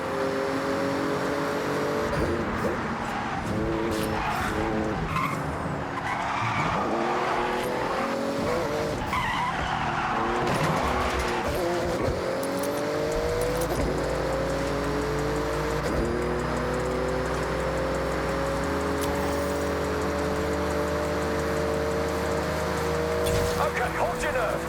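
A Porsche race car in Forza Horizon 6 roars through a speed zone, its engine revving with rising gear pitches and tires squealing and skidding, loud and continuous; a voice talks over it.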